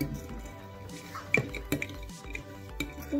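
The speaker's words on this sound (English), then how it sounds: "Now we're just gonna go ahead and stir." Homemade slime is stirred in a container, giving close, soft wet squishes and sticky drips in a steady, uneven rhythm.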